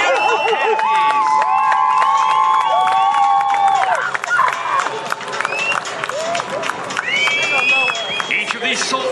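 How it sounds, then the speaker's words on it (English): A crowd at the Cleveland Air Show cheers and yells for US Army Golden Knights parachute jumpers, with loud, sustained whoops and shouts from many voices and some clapping mixed in. "Everybody's yelling."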